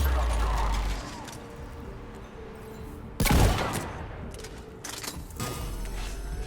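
Shotgun fire in the Mass Effect 3 video game, one loud, booming blast with a decaying tail, followed by lighter scattered shots amid game noise, with someone talking over it.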